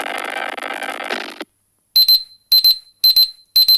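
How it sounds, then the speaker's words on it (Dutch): An alarm clock rings in four short repeated bursts of beeping, loud and close, after a stretch of other noise that cuts off into silence. "dat is natuurlijk die wekker"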